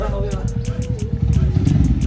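A motorcycle ridden on a road trip between Bhinder Kalan and Faridkot in Punjab gives a steady low engine rumble throughout, with voices talking over it.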